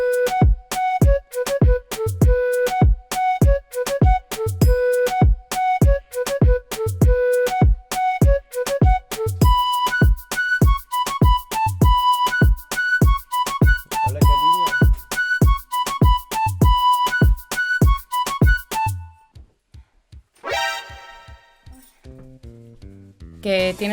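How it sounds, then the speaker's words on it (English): Moombahton beat built in FL Studio, with punchy kicks, snares, percussion and two distinct synth leads: a loud, steady looping groove with driving regular hits, ending in a brief sparse stretch of scattered sounds. "we have the kicks, we got the snares, we got the percussions, and we have the two different leads"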